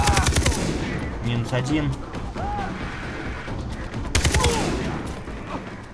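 Gunfire during a fight with pirates in Far Cry 3: a rapid burst of close shots at the start and another burst later, with someone speaking briefly between them.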